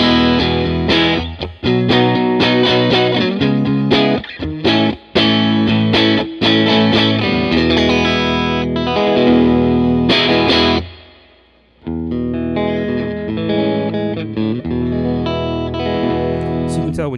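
Electric guitar played clean through a pedalboard with every pedal switched off, a steady run of strummed and picked chords, fairly loud and continuous, with a brief drop-out near the end before playing resumes.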